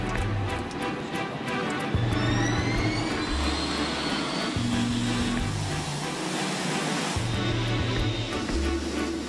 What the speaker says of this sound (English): The 747-8 Intercontinental, the newest and largest version of the company's iconic jumbo jet, is taking off for the first time.